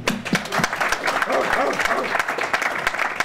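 A round of applause at a UCMMA 23 mixed martial arts press conference, scattered clapping from the room heard under a voice talking over it.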